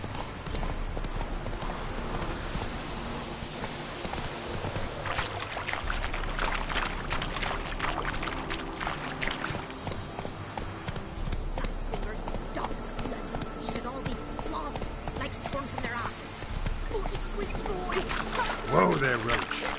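Horse Roach's hooves clip-clopping in a video game, a steady run of near hoofbeats over mixed game sounds, with a voice talking over part of it.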